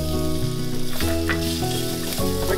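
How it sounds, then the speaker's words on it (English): Garlic sautés in olive oil in a skillet over medium heat, a dense, close sizzle and crackle that runs continuously, with tonal hum or music beneath it and no talking. "we're gonna saute our garlic"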